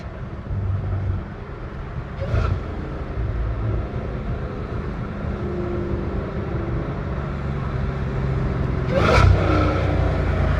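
A Dodge Challenger Hellcat Redeye makes a hard second-gear pull, its engine roaring loud and continuous with a rising drone and a couple of sharp bursts.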